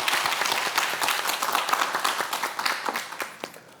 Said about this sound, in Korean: 이재혁 교수님의 수업 큰 박수로 청해 듣겠습니다.